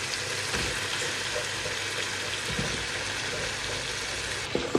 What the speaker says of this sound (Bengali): মশলা খুব ভালো মতো কষাই নিচ্ছি